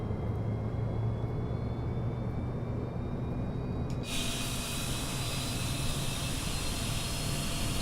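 A Fokker F28 jet engine in a flight simulator game spools up over a steady low rumble and hiss, then fuel ignites with a sudden loud whoosh that broadens into a constant roar with high whining tones.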